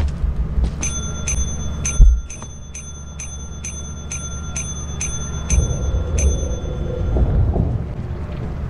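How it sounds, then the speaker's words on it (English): Repeated bell rings in the video game Lethal Company, a rapid run of about a dozen bright metallic strikes with ringing overtones over a low rumbling game background, followed by louder low ambient noise. "What happens if I keep ringing the bell?"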